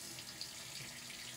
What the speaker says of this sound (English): get my brush head wet with warm water